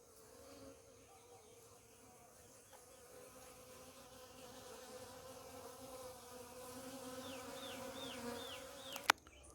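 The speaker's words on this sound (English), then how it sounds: "Hear the sound of the bees." Bees buzzing on a farm in Jamaica, a faint continuous drone rising and falling as insects fly near, with quiet outdoor background and a brief click near the end.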